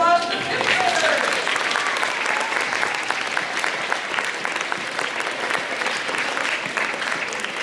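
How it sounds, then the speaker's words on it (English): An audience at a school rally and awards ceremony applauds the 5th graders with sustained, dense clapping that fills the room and stays steady from start to finish. "Let's give a big hand and a round of applause to the 5th graders."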